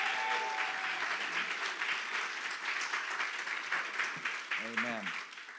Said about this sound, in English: Let's give Pastor Adam a great round of applause